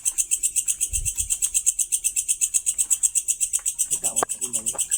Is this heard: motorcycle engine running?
no